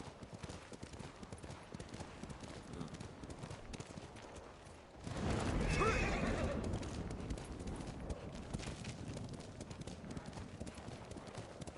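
In the video game Ghost of Tsushima, horse hooves clop steadily, then a louder surge of galloping and a whinny rise midway, with game ambience and faint talk underneath.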